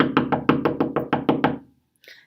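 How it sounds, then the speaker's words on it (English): Nine quick, evenly spaced knocks on a classroom board by a teacher, loud and close, followed by a brief pause and a faint trailing tap. "I also knock on the board."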